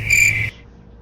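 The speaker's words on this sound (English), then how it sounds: "Crickets." Crickets chirping as a sound effect: one short, bright, trilling chirp that stops abruptly, leaving faint low background hum.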